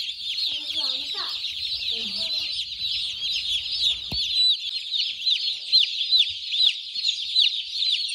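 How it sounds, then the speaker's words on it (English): Young day-old broiler chicks newly placed in a pen give dense, continuous high peeping and chirping, steady and loud throughout, with a few lower clucks and brief rustles early on. "Now, birds are a little bit hyped, but that's to be expected."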